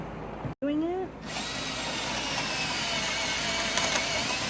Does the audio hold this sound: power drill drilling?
yes